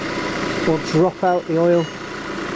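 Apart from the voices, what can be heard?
Citroen Xantia car engine idling while warming up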